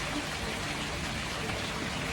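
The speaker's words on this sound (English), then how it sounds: "I can hear rain." Outdoor rain on an autumn smallholding, a steady, even hiss of falling drops with no distinct individual hits, faint and continuous with nothing else over it.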